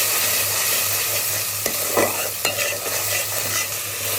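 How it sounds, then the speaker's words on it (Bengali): Ginger, garlic and onion paste frying in hot oil, a steady sizzle with a few sharp stirring scrapes partway through. "এবার তেল গরম হলে মিক্সচারটা দিয়ে দিচ্ছি, ভালো মতো ভেজে নিতে হবে।"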